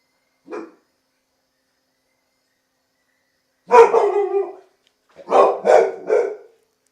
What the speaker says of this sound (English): There's a dog fight on the mountain.